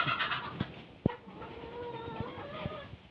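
Laying hens cluck and murmur in a coop, soft overlapping calls at moderate distance, with one sharp knock partway through and a rising drawn-out cackle toward the end.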